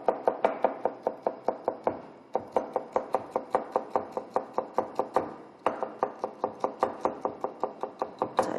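Rapid, even knife strokes julienne peeled vegetable skin on a cutting board. Runs of sharp knocks are broken by a few brief pauses, close and crisp.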